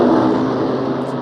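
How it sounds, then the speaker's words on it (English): A race car spins out on a motorsport track, its engine a loud, steady whirring drone across the whole moment, with no voices. "Whoa, we got a spin."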